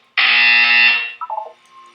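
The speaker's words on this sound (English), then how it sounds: "When you hear the buzzer, look up at the ceiling." In Portal 2, a loud, harsh electronic buzzer blares for about a second, then cuts off and trails into a few faint fading electronic blips, with no talking.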